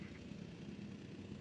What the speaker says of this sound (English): Three helicopters all at once.